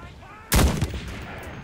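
A single loud gunshot in a shooter video game, a sharp close blast that fades over about a second into steady background game noise.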